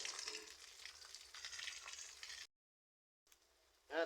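Silver daing, dried fish, frying in a pan, giving a quiet steady sizzle that cuts out abruptly, then returns faintly with a brief louder burst at the end.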